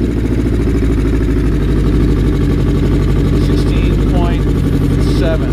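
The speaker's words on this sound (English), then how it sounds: "Now let's run the bike with the headlights on." A motorcycle engine idles steadily with its headlights switched on, a loud close rumble throughout, with faint chirpy tones near the end.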